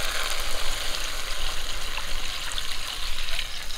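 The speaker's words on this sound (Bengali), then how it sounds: "এখন রস করার জন্য একটু জল দিয়ে দেবো।" Water is poured into spiced, fried masala for a fish curry gravy, a steady close splashing trickle that runs evenly throughout.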